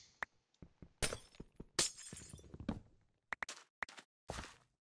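Glass blocks shattering in Minecraft, a series of sharp crisp breaks in quick bursts with short gaps, mixed with soft block thunks and footsteps, no talking.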